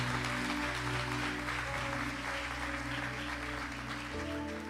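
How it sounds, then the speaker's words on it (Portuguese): Church congregation applauding during a Portuguese-language Mass, a dense, steady wash of clapping running the whole stretch over a sustained organ or keyboard chord that shifts near the end. "Aplauda isso."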